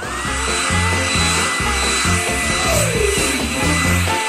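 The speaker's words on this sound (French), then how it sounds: "Avec un sèche-cheveux." A hair dryer blows with a steady, loud whir continuously, with rhythmic low thumps of music in the background.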